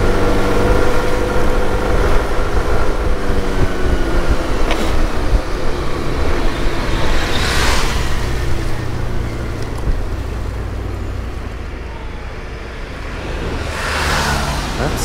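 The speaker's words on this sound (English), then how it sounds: "Bucharest traffic and the little scooter make perfect harmony" Sym Symphony ST200 scooter riding through Bucharest city traffic in winter, with a steady engine drone and road rumble throughout and passing vehicles swelling in and out.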